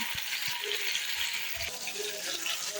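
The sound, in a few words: okra frying with tomato in a pan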